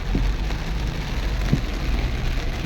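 Heavy tropical rain pours down on a flooded street in Marbil around a minivan, a dense, continuous roar with no break and a low rumble underneath.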